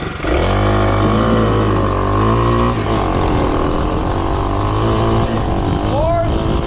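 A vehicle pulls away in second gear and accelerates hard, its engine note climbing steadily through a gear change, loud and close throughout.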